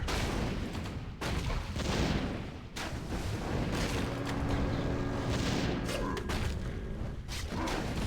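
Mortar teams attacking in Warcraft 3: repeated booming shell blasts and crackling fire in a busy battle mix, with several sharp hits among constant rumbling.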